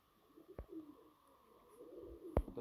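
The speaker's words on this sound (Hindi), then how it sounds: "बड़ा ही नायाब कबूतर है काले मुँह वाला" A black-faced pigeon, one of a prized breeding pair, gives faint, brief coos close by, with two sharp thumps or handling knocks standing out against a quiet background.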